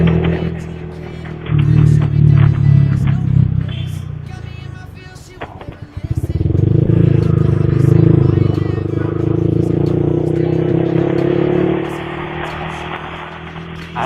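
A Yamaha R15 V3 single-cylinder motorcycle fitted with an R9 Misano exhaust revs up in two long, loud swells with a dip between them, close by, while people talk over it.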